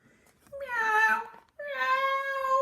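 A voice imitates a cat, giving two drawn-out, plaintive meows close to the listener, separated by a brief pause.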